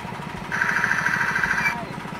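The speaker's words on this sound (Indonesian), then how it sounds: "Kita tes mesinnya apakah berfungsi dengan baik atau tidak." Engine of a newly assembled mini Caltron-type rice milling machine on a test run, a close, rapid chugging pulse with a whining tone rising over it partway through.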